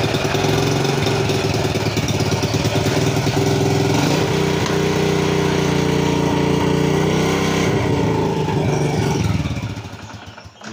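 Motorcycle engine running without its battery connected, fitted with a new regulator-rectifier: a loud, steady buzzing idle that holds throughout, then drops away and fades near the end.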